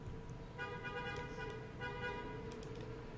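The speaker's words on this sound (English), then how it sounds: "Someone on the street just honked" A car horn honks twice on a street, each blast a short tonal burst heard at moderate distance over a steady background hum.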